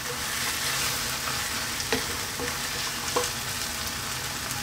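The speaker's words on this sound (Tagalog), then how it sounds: "Again, haluin natin." Canned sardines fry in a pan while being stirred, a steady close sizzle with a few light utensil taps and scrapes against the metal.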